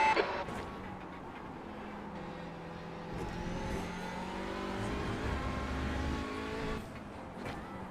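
An Audi TCR touring race car engine in iRacing drones and revs through gear changes, mid-loud and continuous, with occasional clicks and tire noise.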